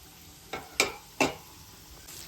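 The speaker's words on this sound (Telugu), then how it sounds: "స్టవ్ పై ఆయిల్ పెట్టుకొని ఆయిల్ అయితే వేడయింది మనము ఈ చికెన్ పీసులను వేసుకోవాలి" Chicken popcorn pieces dropped into hot oil on a stove, each giving a short bright sizzling burst, three or four in a row over quiet low background with no talk.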